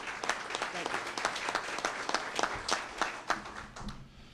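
An audience at a chamber of commerce luncheon gives the mayor steady, dense applause that fills the room from start to end, with many hands clapping close by.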